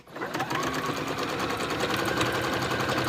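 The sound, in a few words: sewing machine quilting a zipper pouch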